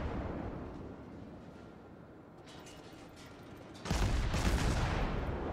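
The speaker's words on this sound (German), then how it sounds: "Jetzt schießen wir da mal drauf." Naval gunfire from the cruiser Nürnberg in World of Warships: a low rumbling background builds, then a loud broadband salvo blast erupts near the end and sustains with a heavy booming roar.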